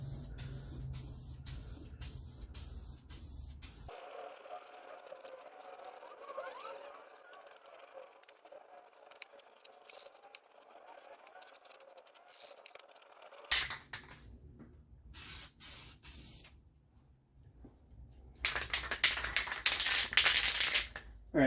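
A spray gun lays a second coat of red paint onto Jeep YJ fenders, giving a steady hiss in long bursts with a quiet pause between them. No one talks.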